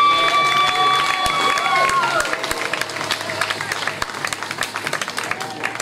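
A church congregation applauds and cheers for Jesus during a worship service, loud crowd clapping that fades into scattered claps while a voice speaks over it.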